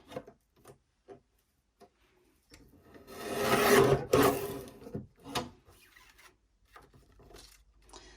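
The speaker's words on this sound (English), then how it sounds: "It's my new guillotine, by the way." A paper guillotine slices through paper in one dry, rasping cut lasting about a second, surrounded by soft clicks and taps of handling in a quiet room.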